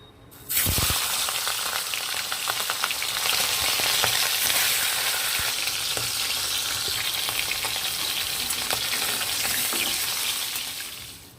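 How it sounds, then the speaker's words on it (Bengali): Hilsa fish heads frying in hot oil: loud, steady sizzling, a continuous crackling hiss that starts abruptly and carries on without pause until it fades near the end. "এবার আমি মাছের মাথাগুলো সুন্দর করে গরম তেলের মধ্যে ভেজে নেব"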